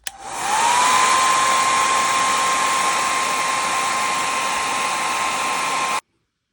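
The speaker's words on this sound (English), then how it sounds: "I keep a hairdryer around for crafting because it just helps out immensely" A hair dryer blows loudly and continuously for about six seconds, a steady high whine over rushing air, then cuts off abruptly.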